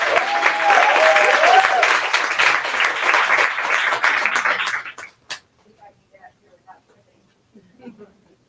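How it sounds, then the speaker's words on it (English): Dense audience applause greets a speaker coming to the stage at a women-in-cannabis business event, holding steady for several seconds before stopping abruptly, leaving a few scattered claps and quiet room noise. "So let's give Ms. Tamara Colson a round of applause as she comes up to the stage."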